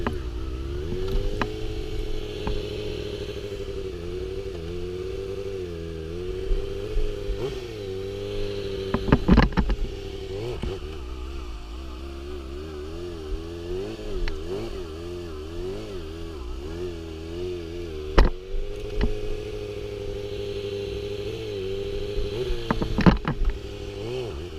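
Motorcycle engine held at a steady idle-like drone with repeated rises and dips in revs as the clutch is worked for wheelies, close and continuous with occasional knocks and rattles.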